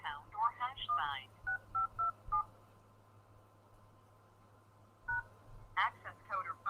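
Touch-tone keypad beeps sound as a phone number is dialed on a conference call line, a quick run of evenly spaced tones between stretches of an automated voice speaking over a low hum.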